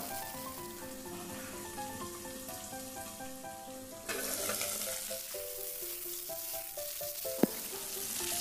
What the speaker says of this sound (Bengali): আর ভালো করে নাড়াচাড়া করে নেব।